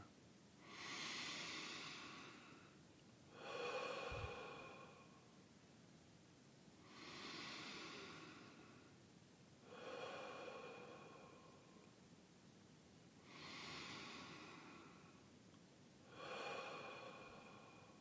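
Slow, deliberate breaths during a guided meditation exercise, about six long airy inhales and exhales in a steady rhythm, each rising and fading softly, close to the microphone with no talking.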